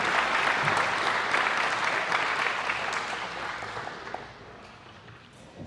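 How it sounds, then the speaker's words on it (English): A crowd at a school sports awards night gives a full round of applause, loud and dense at first, then thinning and fading away toward the end. "Give a round of applause"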